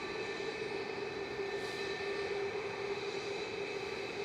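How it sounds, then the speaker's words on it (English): A Boeing 737 MAX 8 rolls for takeoff at Manchester Airport, a steady distant engine roar with a sustained whine and low rumble, even and unbroken throughout. "Max 8 on the roll. Go on, Max. Get up."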